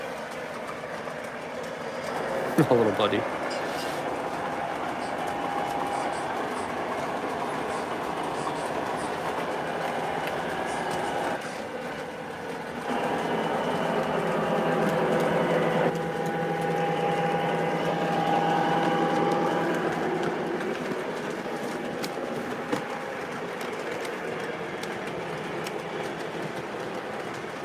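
O scale model trains run steadily for a long stretch with a continuous rolling rumble and faint clicking over the track, broken by a brief sharp squeal near the start; a voice is heard briefly.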